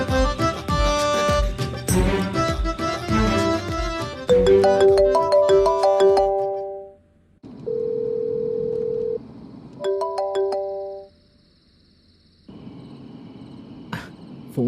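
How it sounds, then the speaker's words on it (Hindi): A phone rings unanswered, with a melodic ringtone playing a busy run of notes, then long steady tones with gaps and a final stretch of quiet hum. "फोन क्यों नहीं उठा रहा है?"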